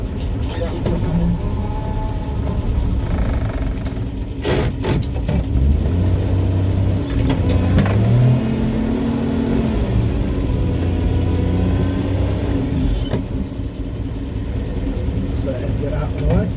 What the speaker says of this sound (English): Tractor coming.